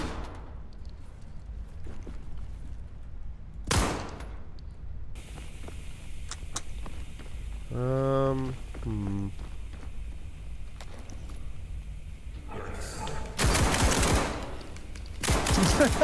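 Video game gunfire in a dark SCP horror setting, heard as scattered sharp shots and a loud burst near the end, with quiet gaps between and a voice speaking briefly in the middle.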